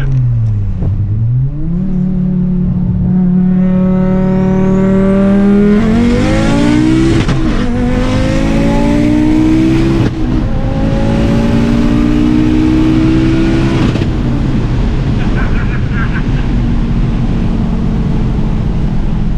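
A 1000hp Audi five-cylinder car accelerating hard, heard from inside on a ride-along, with a loud rising engine roar climbing through several gear changes, each marked by a brief break before the pitch builds again.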